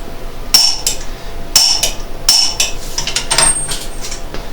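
A torque wrench tightens the ball joint nut on a 2002 Honda Civic's front suspension, giving three sharp, evenly spaced metallic clicks, close and fairly loud, followed by a few lighter clinks.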